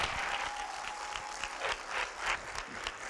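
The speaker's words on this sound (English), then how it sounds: "Let's give a round of applause for contestant number 1, 2, and 3 once again." An audience at a musical showcase applauds contestants, producing a steady wash of fairly quiet clapping that holds throughout, with a few louder claps standing out.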